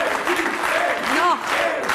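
A French television studio audience claps steadily for a guest who has just faced a phobia challenge, with the applause continuing for the full stretch and a voice talking over it.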